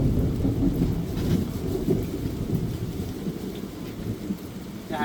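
Heavy rain pours down steadily with thunder rumbling through it, a dense, loud wash of downpour and low rolls with no voices.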